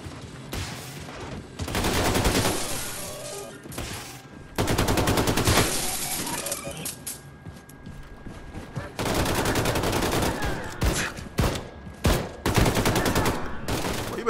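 Repeated shotgun blasts and bursts of gunfire in the video game Wolfenstein II: The New Colossus, loud and dense, coming in several clusters with brief lulls between them and no talking.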